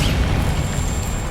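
Confringo blasting spell exploding in Hogwarts Legacy, a short, deep booming burst with a rumbling low-end tail, loud and alone for about a second.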